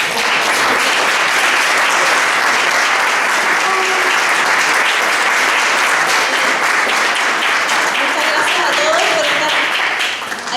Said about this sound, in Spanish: un aplauso para nuestra expositora.